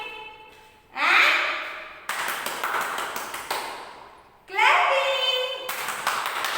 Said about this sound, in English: Use your two hands, palms. Clapping.